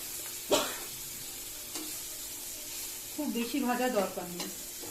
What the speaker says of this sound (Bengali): আমি আগে এই উচ্ছেগুলোকে ভেজে নিই